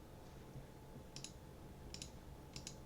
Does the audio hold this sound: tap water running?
no